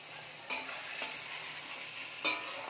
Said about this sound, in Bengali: হালকা করে নাড়াচাড়া করে নেব।